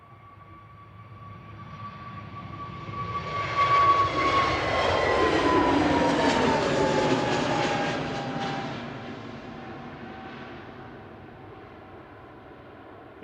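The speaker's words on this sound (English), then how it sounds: "EasyJet flight 2201 over to Berlin Brandenburg, operated by GUZHF, A320neo, operating that this evening." An easyJet Airbus A320neo jet flies past at an airport in the evening, its engine roar swelling over several seconds to a broad peak with a whining tone, then fading away, heard alone without talk.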